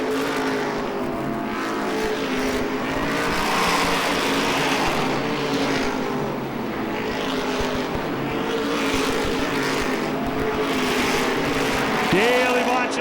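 Stock race cars roar around Lee USA Speedway during an Oktoberfest race, a continuous loud engine drone swelling as the pack passes, with an announcer talking over the noise.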